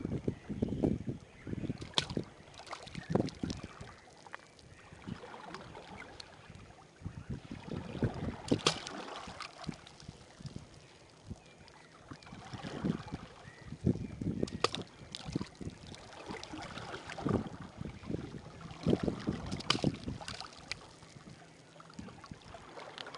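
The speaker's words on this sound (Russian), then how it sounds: "Дует сильный ветер." Strong wind gusts outdoors, heard as irregular rumbling bursts of buffeting against the microphone, fairly quiet overall and without speech.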